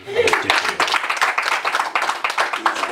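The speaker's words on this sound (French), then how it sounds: "Ça s'applaudit quand même." Applause from an audience at a business gathering, dense clapping running steadily throughout at moderate loudness, with voices mixed in.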